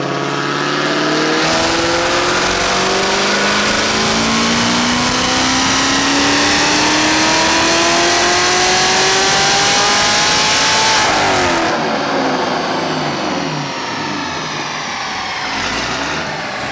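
A loud, boosted Camaro ZL1 engine revs hard on a dyno, pitch climbing steadily through the gears before cutting off abruptly, then winding down with lingering whine.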